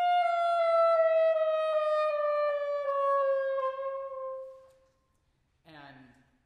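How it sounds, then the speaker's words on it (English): A string quartet plays a scale in quarter tones, a smooth bowed line sliding through very narrow pitch steps for several seconds before fading to silence, then a short burst of a different tone at the end. "Meanwhile, if you use quarter tones,"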